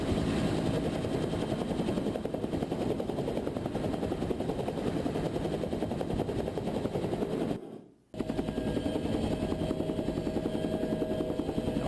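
A helicopter's rotor beats loudly and steadily with a throbbing, chopping drone. The sound cuts out briefly near the end before resuming at the same level.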